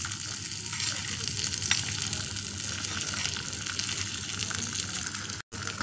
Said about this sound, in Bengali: ভালো নাড়াচাড়া করে আমার পাস্তা দিয়ে দিই